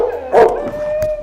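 A dog playing disc catch gives a short howling yelp, loud and close, followed by a thin whining tone that carries on to the end under faint background noise.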